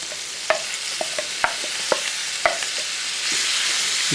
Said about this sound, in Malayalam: ഇളക്കി നല്ലപോലെ ഇളക്കി കൊടുക്കുക അപ്പോൾ സവോള ഉണ്ടല്ലോ നമ്മൾ ഈ എണ്ണയ്ക്കകത്ത് ചെറുതായിട്ടൊന്ന് ബ്രൗൺ നിറമാകണം